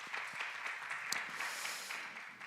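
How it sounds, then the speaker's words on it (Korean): A church youth service congregation claps briefly in a brisk, scattered burst, moderately quiet and fairly even. "우리 하나님께 박수로 영광 돌리고 시작하겠습니다"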